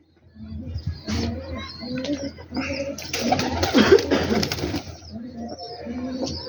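Red-eyed pigeons kept by a fancier in Rawalpindi coo in repeated soft, throaty phrases close by, with some background chatter.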